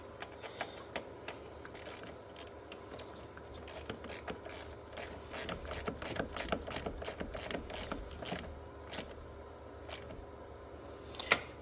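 A ratchet wrench tightens a 10 millimeter battery terminal nut on a Subaru, giving a series of quick, close, sharp clicking bursts in an irregular rhythm, with no voices.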